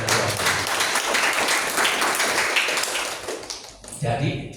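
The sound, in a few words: congregation applauding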